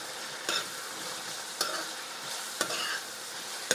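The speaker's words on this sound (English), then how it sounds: "drop the tomatoes and let them cook until the tomatoes are nice and soft" Tomatoes cooking in a pot for one-pot spinach rice with crab meat, a soft steady simmering sizzle broken by three or four sharp utensil clicks at regular intervals, fairly quiet.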